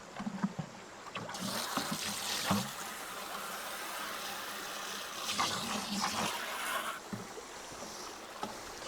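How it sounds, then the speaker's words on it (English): Water splashes and trickles steadily out of a clay-breaking pressure hose setup for gold paydirt, with broadband rushing bursts, close by, against a continuous watery background with occasional knocks. "Keep emptying the water out."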